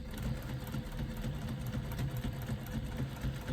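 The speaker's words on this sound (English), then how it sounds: "we're going to top stitch down both of the short ends" A sewing machine top-stitches the short ends of a fleece seat belt pad, running at a steady fast whirring hum with a constant mechanical chatter, close and continuous throughout.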